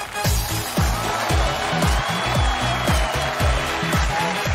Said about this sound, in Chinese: 让我们掌声请出这位22岁的求职者走上舞台